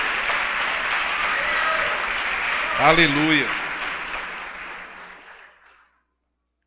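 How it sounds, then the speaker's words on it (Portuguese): A church congregation applauds in a steady wash of clapping that fades out near the end, with a voice calling out a brief exclamation over it midway. "Quem crê nisso, dá um aplauso a Jesus Cristo"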